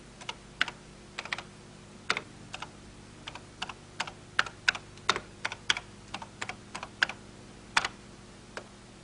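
Logo commands are typed on a 1983 home computer keyboard: a run of crisp, separate key clicks at an uneven pace, close and clear against a quiet background.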